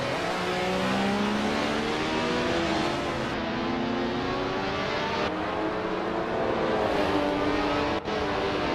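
Video-game AI race cars roar continuously with layered engine whines, rising revs and shifting pitches, several cars overlapping at a steady moderate level with no voices.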